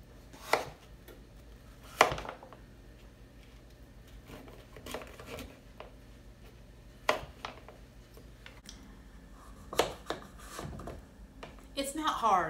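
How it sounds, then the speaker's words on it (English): Knife cutting firm butternut squash into cubes on a board, giving a handful of sharp, separate chops spread irregularly through the clip with quieter rubbing and handling noise between them. "And then I go back and cut it into cubes."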